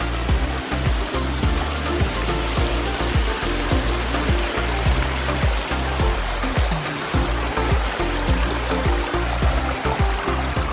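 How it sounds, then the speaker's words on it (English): Steady rushing and splashing of a small backyard pondless waterfall, a continuous full stream of falling water with no voices. "and of course, a beautiful pondless waterfall"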